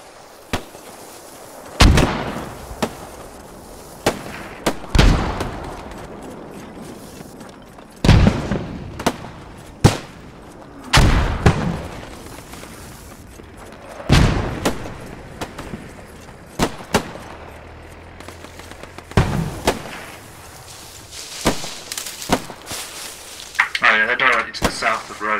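Scattered sharp gunshots and distant cracks from the World War II shooter Post Scriptum ring out intermittently, some loud and close, others faint and far, with players talking over the firefight.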